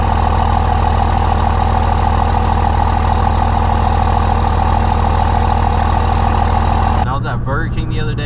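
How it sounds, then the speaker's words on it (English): A straight-piped Cummins diesel truck engine runs loud and steady at close range, a constant deep rumble for about seven seconds before it cuts off abruptly. "the truck is way too loud to go"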